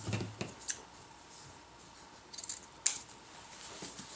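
Scissors cut through a webbing strap for a winter tarp tie-out, a few crisp snips and clicks, close and fairly quiet.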